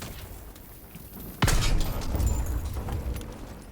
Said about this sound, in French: Daniels, pose une charge de thermite sur ce canon!